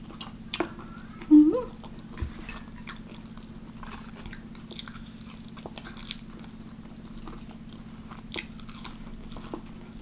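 Someone eats spicy Korean instant noodles with a fried egg, with soft slurps and chewing close to the microphone over a steady low hum, and one louder bite near the start.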